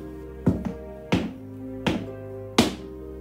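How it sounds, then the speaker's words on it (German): Four evenly spaced footstep thuds sound in a Toca Boca horror game scene, with the first step doubled, each a close, hollow knock with a ringing tail, alone without speech. "Ich höre Schritte."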